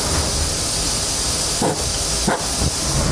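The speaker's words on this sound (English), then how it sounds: "I'm going to put a shot of some clear spray paint over all the holes that we drilled." Steady broadband hiss of an aerosol can of clear spray paint spraying continuously over drilled holes in a truck bed, close up, with a couple of brief pauses in the stream.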